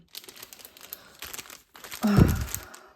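A plastic bag holding beads for embroidery is handled, giving soft scattered crinkles that swell into a loud, close rustling crunch near the end.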